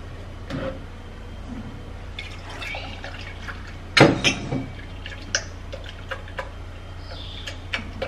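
Blended almond mixture being strained to remove the skins: close liquid dripping and trickling into a bowl, with scattered sharp drops and one louder splash and clatter midway over a low steady hum.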